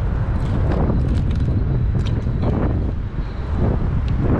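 Strong wind buffets the microphone outdoors while fishing, a continuous loud rumbling roar that swells and dips over a few seconds with no voices.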